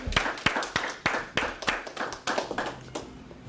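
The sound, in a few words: audience applause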